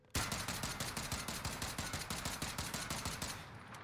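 DMR-14 rifle shooting in Call of Duty: Warzone, a rapid steady string of sharp close shots in fast rhythm, continuous for almost four seconds with no voices.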